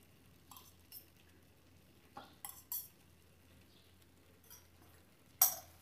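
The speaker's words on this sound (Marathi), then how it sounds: "आता आपल्याला गॅस बारीक करायचा आहे आणि साईडनी त्याला 2 चमचे तूप घालायचे." A spoon clinks and scrapes in a pot while ghee is stirred into paneer matar pulao cooking on low heat in a pressure cooker. The taps are sparse and soft, with a sharper clink near the end.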